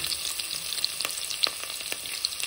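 Onions drop into a pan of ghee with cashews and fry with a bright, fizzing sizzle, dotted with small crackles and a few stirring taps.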